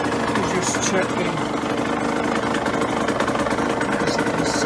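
An engine idles steadily up close at just over 1000 RPM, a continuous throbbing rumble with a faint rhythmic knock throughout.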